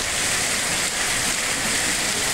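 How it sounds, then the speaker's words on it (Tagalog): Heavy rain with hail and strong wind roars steadily in a dense, constant wash, loud and close without any break. "Malakas yung ulan, malakas pa yung hangin,"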